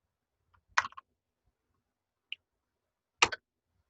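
Slow typing on a computer keyboard: a few sparse, quiet key clicks in small clusters separated by long silent pauses.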